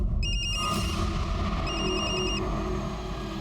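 A mobile phone rings with a repeating electronic ringtone: two bursts of steady tonal beeps separated by a short pause, moderately loud over a low rumbling background with no speech.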